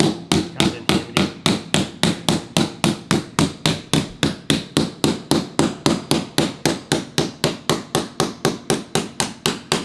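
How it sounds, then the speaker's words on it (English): A rubber mallet pounds a homemade step-up transition strip between vinyl plank and tile flooring, with fast, evenly spaced strikes, about three per second, loud and close with no talking. "a rubber mallet or a hammer with something that you're not going to tear up comes in handy"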